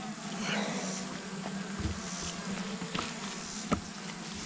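Honey bees hum in a steady, low drone around an open hive box during a mite-treatment check, with a few soft knocks and clicks from handling the frames.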